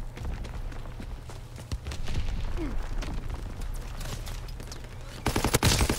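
Rapid gunfire in Call of Duty WW2, steady bursts of overlapping shots under a low battlefield rumble, growing louder and denser near the end.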